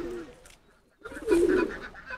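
A pigeon in a home loft, one that has not raised young in its nest, gives a single low, throaty coo after a brief pause, close and fairly clear against faint background noise.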